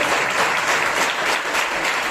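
Steady applause from a church congregation, continuous clapping throughout, fairly loud and even.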